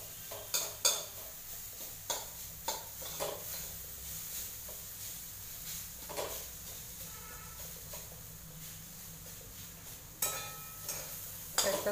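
A spoon scrapes and knocks in a pan of chillies, peanuts and garlic over low gas, giving irregular close clinks and scrapes with a soft sizzle underneath.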